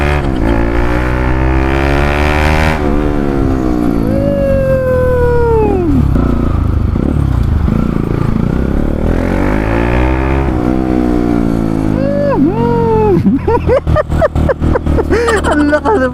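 After an exhaust replacement, a loud aftermarket exhaust is revved hard, with repeated rising and falling engine blips and sharp crackles near the end, recorded up close.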